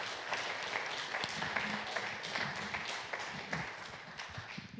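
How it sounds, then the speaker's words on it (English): A faint, scattered round of applause with uneven hand claps during an online church chat session, rising and thinning over several seconds. "we need to give a round of applause and a hallelujah"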